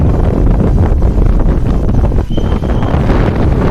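Strong wind roars loud and continuous across the microphone on a monsoon trek up Kamalgad fort, buffeting steadily with only a brief dip before gusting again.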